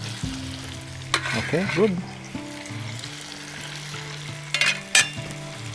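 Onions and tomatoes frying in a pan with a steady, moderate sizzle, stirred now and then with brief utensil scrapes; a voice speaks briefly over the cooking.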